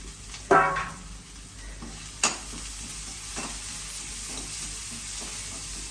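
Steady crackling sizzle of curry leaves frying in hot oil, with a sharp burst of spattering near the start and stirring clinks.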